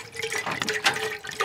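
Water poured into a pot to start a pickling brine, a steady liquid trickle and splash heard up close over a fairly constant running-water hiss.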